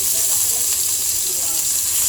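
Eggplant and anchovies fry in balado chili paste, a steady loud sizzling hiss with no pauses, close by, with no talking.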